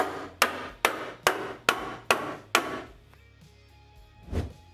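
A hammer tacker drives Novus staples, the kind used to fit roofing membrane, with six sharp, evenly spaced hits close up, followed by a pause and one softer thud.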